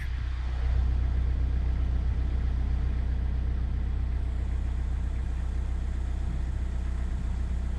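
A canal boat engine idles with revs cut back, a low, steady chug continuing throughout, a soft constant rumble with nothing else standing out.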